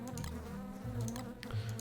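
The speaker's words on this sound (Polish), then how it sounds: "A ja się dziwię, czemu mi muchy tu latają" Flies buzzing in the video game Don't Starve Together, a close, continuous droning hum with flickering wingbeat texture that carries through the whole short stretch with no voices.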